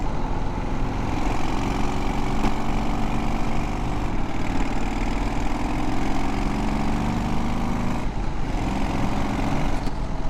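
A Harley Sportster Scrambler motorcycle engine on dirt roads runs steadily at close range, a continuous low throbbing drone with a slight rise in pitch partway through, no talking.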